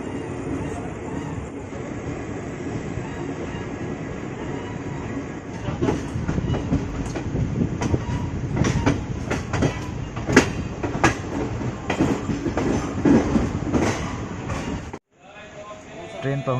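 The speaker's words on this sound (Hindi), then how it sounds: "ट्रेन अपने टाइम से मूरी जंक्शन पहुंच रही है" The Vananchal Express of Indian Railways runs toward Muri Junction with a steady close rumble of wheels on rails and rhythmic clickety-clack that grows busier, then a sudden brief drop.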